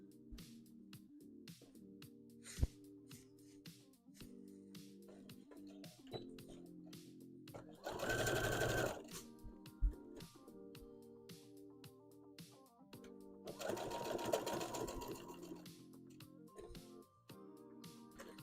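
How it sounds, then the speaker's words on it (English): A sewing machine stitches a cosplay piece in two bursts of steady whirring, separated by quieter handling sounds, with no talking. "So I'll go ahead and sew this guy up"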